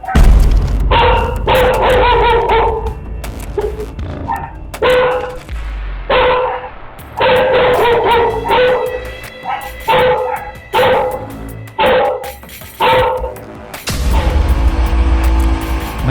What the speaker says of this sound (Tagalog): Kaya nabulabog na ang mga aso sa paligid.